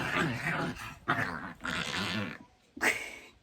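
A dog growls and whines in several close, rough bursts, with short pauses and one last sharp burst after a brief quiet gap.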